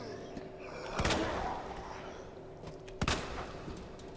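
Two loud gunshots ring out a couple of seconds apart in Resident Evil 2 Remake, each a sharp close crack over a low, steady game background.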